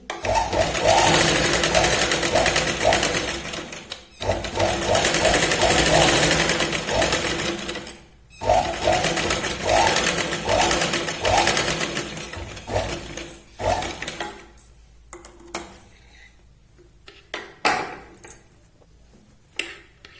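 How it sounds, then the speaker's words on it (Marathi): A sewing machine runs a double line of stitching on a Katori blouse, in loud steady bursts of rapid clatter broken by brief pauses, then shorter, sparser runs toward the end. "याच पॉइंटने परत आपण डबल शिलाई लावून घेऊया."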